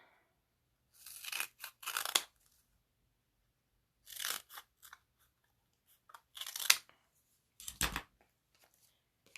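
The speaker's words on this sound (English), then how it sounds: "I'm just going to cut some strips." Paper strips being cut for card making with crisp scissor snips, quiet and close, coming in short clustered bursts separated by pauses.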